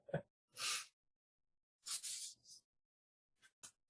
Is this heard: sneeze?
yes